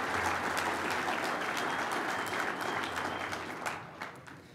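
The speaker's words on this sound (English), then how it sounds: "Give him a big applause" A large audience at the 2023 NGWA awards ceremony applauds for an honoree, dense continuous clapping that gradually fades toward the end.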